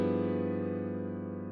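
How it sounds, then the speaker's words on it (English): A minor second chord with an added bass note sustains steadily, its tones ringing together as one dense, slowly fading harmony, alone with no talking. "it makes a little more sense when you add the bass note to it"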